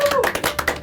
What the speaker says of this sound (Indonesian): teman-teman semua ini adalah tepuk tangan buat Bari